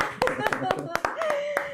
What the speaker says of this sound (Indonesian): Saya mau minta teman-teman yang ada di sini untuk tepuk tangan untuk narasumber hebat kita